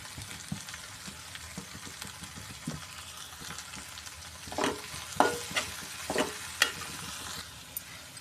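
Grated raw green mango and turmeric stirred in a pan over low heat, soft scraping strokes and gentle sizzle at first, then louder, sharper clatters of the spoon against the pan; no voices.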